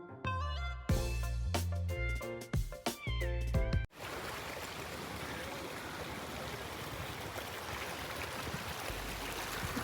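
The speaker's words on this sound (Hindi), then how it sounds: "बहते हुए पानी की आवाज़ आप सुन रहे होंगे" A spring stream on the way to the Swat River in Pakistan rushes steadily, a dense, continuous wash of flowing water heard close by, preceded by a few seconds of other sounds.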